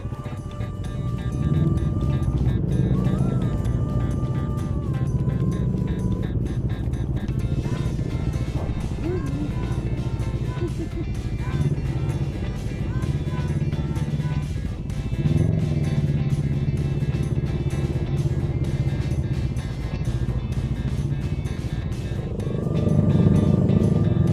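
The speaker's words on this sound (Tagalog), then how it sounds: "engine firing up" A motorcycle engine runs steadily up close throughout the stretch, with a low rumble and mild swells in level, during a breakfast ride toward a beach in Batangas. People talk over it now and then.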